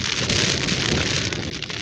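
Rain falls on a tent during a wild camp at Bleaklow Stones in the Peak District, a close, steady dense patter drumming on the fabric without pause.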